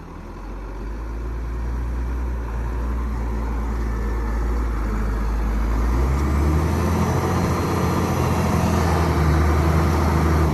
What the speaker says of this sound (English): The loader speeds up quickly, dumps well.